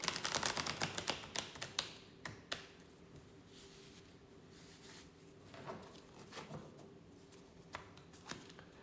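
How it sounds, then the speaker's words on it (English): A quick burst of rapid, crisp card riffling at the start, then lighter scattered taps and flicks at close range. "I'm just going to shuffle the deck once"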